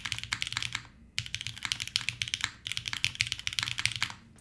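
Fast typing on an O-ring mounted keyboard set directly on the desk without a pad, bursts of crisp, clacky keystrokes broken by two short pauses, loud and close.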